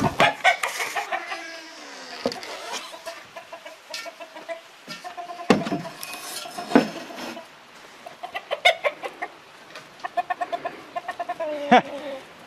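Several chickens cluck and squawk nearby in uneven bursts, with sharp rapid clucking runs and occasional louder calls.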